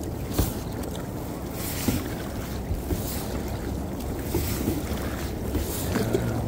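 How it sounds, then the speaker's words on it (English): A kayak glides across water with soft lapping and sloshing against the hull, steady wind buffeting the microphone throughout, no voices. "I'm liking this kayak. Low to the water."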